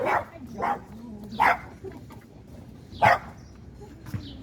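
A sharp little dog on a Queens street on a cool summer evening barks in separate loud yaps, four or five spaced over a few seconds, close by and over low street noise.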